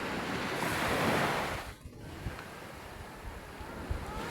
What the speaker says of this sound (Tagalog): Pakita ko sa inyo guys yung alon ng dagat.